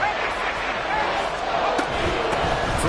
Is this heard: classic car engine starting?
no